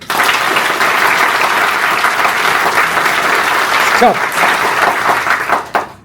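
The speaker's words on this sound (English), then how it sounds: "Now, how do I know you clapped well?" Students in a college classroom clap their hands together in a sustained, dense burst of applause close by, with a voice breaking in near the end as the clapping stops.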